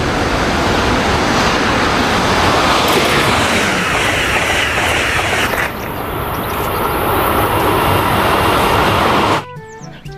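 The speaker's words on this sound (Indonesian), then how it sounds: "Wow, lihat di sini ada kereta cepat." A high-speed train rushes past with a loud, continuous roar and rumble that shifts in tone partway through, then drops away abruptly near the end.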